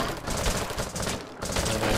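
Rapid turret gunfire in the Xenowerk Tactics mobile game, a dense, steady burst of shots that cuts out for a moment near the end before resuming, loud and close throughout.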